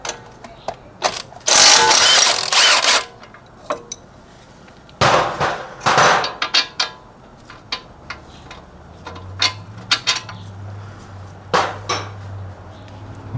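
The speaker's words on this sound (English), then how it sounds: "Next, I'm going to remove this E18 bolt that goes over here, and there's a 21mm that goes on the opposite side." Tools ring and clank against metal while an E18 bolt is removed from the suspension of a Mercedes-Benz E63 AMG, with scattered sharp clinks, a few rattling bursts and a brief low mechanical whir near the end.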